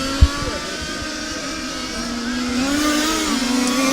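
Radio-controlled race cars in an EFRA LSTC Euros qualifying heat whine past, their high engine pitch rising and falling as they accelerate and corner, with a brief thump near the start and a steady buzz throughout.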